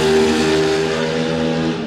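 Warhorse Ducati V2 racing motorcycle roaring past on the track at a road race meeting, a loud steady engine note with strong harmonics that fades slightly as it moves away, no talk.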